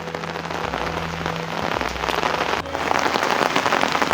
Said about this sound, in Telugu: ఇలా వర్షం పడుతున్నప్పుడు గొడుగు మీద సప్పుడు వస్తుంది కదా, టక్ టక్ టక్ టక్ అని